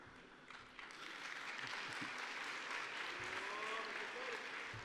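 An audience at an Islamic lecture on the end of prophethood claps for the Messenger, a faint, distant, steady patter of many hands that swells slightly after the first second.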